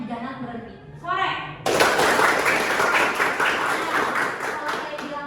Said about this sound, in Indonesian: Kalau saya bilang sore, teman-teman tepuk tangannya jangan berhenti.